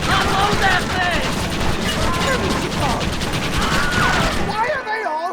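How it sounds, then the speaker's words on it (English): A loud, continuous volley of gunfire fills a shootout in Red Dead Redemption, with shouting voices mixed in and a brief cut-off near the end. "Why are they all shooting at me?"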